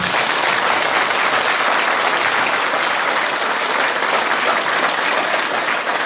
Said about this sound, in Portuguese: Para Jesus, uma salva de palmas